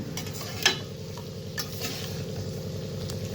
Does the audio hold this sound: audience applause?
no